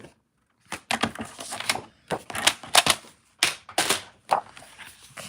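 Scissors snip through cardstock for a top-fold handmade card, a series of sharp, close crunching cuts in uneven bursts separated by brief pauses.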